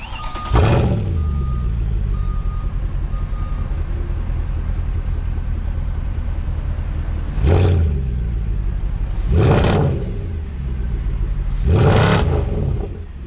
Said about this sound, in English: hit the revs on it